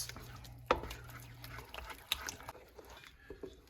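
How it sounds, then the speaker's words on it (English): Cheddar cheese being stirred into a thick potato pie sauce, heard as soft, sticky squelches and a sharp utensil clack against the pot, quiet and close. "And mix."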